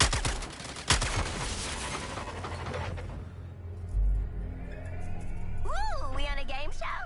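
Gunfire in Suicide Squad Kill the Justice League as a junction box is shot: one sharp crack rises out of a dense clatter of shots and mechanical noise, followed by quieter stretches and character voices speaking.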